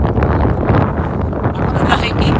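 Strong outdoor wind buffets the microphone in a steady low roar near Smoky Lake, Alberta, Canada, loud and continuous for the whole stretch, with no speech.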